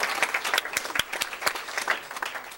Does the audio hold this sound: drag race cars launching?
no